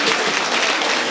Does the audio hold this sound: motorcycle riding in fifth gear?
no